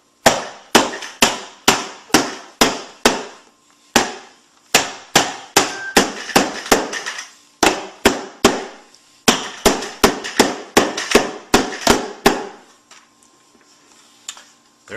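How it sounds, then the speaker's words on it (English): Rubber mallet whacking a gasketed plastic bucket lid onto a pail of stored rice, a long run of sharp, close thuds in quick rhythmic groups with brief pauses between. "give it a nice whack with a rubber mallet"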